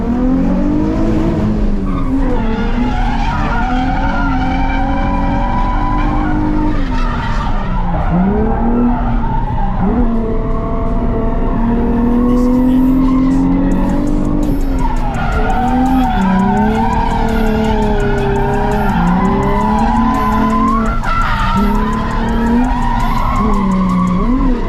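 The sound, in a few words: drift cars skidding around a track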